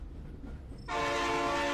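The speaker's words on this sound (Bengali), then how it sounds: "ট্রেন আবার হুইসেল দিয়ে চলতে শুরু করলো।" A train whistle sound effect for a spooky night train story: a quiet rumble, then a loud, sustained, tonal whistle that cuts in abruptly and holds to the end.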